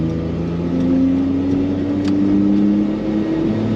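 A turbocharged Suzuki Carry with a new exhaust holds a loud, close, droning rev, its engine tone climbing slightly as it pulls through high RPM, with no one speaking.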